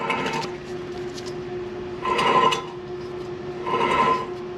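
A worn wheel bearing on an AWD Subaru Outback grinds in two loud rasping bursts over a steady hum, close by with no talking.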